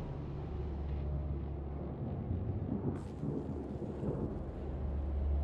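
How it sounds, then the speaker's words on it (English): Thunderstorm ambience in the sci-fi video game Mass Effect: Andromeda, with continuous low rumbling thunder and a steady wash of rain and wind, a brighter crack near the middle, no voices. "Not with these storms."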